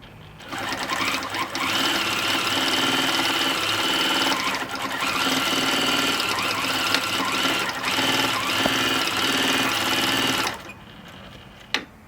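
Domestic sewing machine stitching steadily on a Grace Cutie quilting frame with a stitch regulator, a loud continuous whirring hum for about ten seconds before stopping abruptly, then near quiet with a single click.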